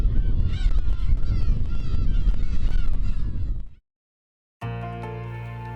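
Black-tailed gulls call at their breeding colony on Yuksando island, a dense, loud chorus of overlapping honking cries that cuts off abruptly, followed by a pause and then steady music.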